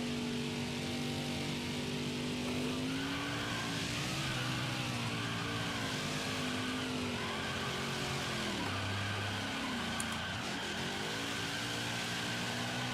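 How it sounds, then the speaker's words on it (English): Full-throttle backwards burnout in a NASCAR Heat 5 race car: a loud, sustained engine roar that wavers and dips in pitch as revs rise and fall, with tire screech, no talk. "full throttle backwards burnout"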